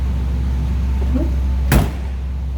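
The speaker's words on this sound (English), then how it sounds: "Nicely the door closes." A single solid thunk of a 1966 Ford Mustang door shutting stands out against a steady low idling hum.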